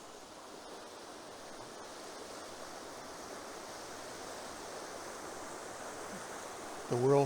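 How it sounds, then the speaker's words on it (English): Creek water flowing through a forest near the Chattahoochee River, a steady broadband rush and babble that holds at an even level throughout, with a brief louder burst right at the end. "And there go the creeks on the other side."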